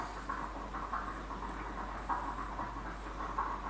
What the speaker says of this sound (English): if I put a capacitor across these terminals, one, we get dimmer, and two, we get some chuffing